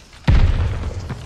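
A single heavy V2 rocket blast in a World War II shooter erupts suddenly after a short quiet lead-in, a deep booming impact that rolls on with a rumbling tail.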